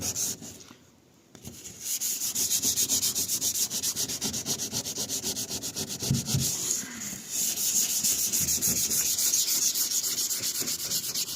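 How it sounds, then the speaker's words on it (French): Car hood being sanded by hand with 240-grit sandpaper before repainting: a steady, loud rasping scrape of continuous back-and-forth strokes, close by, with a brief pause near the start and no talking. "Donc tout le capot, il va falloir que je le ponce pour la repeindre."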